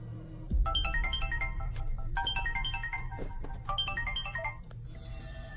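A telephone ringtone plays a repeating melodic tone pattern in three bursts, ringing steadily over a low background hum, with no speech.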